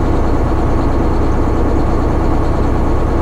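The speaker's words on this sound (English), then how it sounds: "now my truck needs to do a parked regen" A parked semi truck runs at a steady idle during a parked regen, its low, even engine drone close and unbroken throughout with no talk.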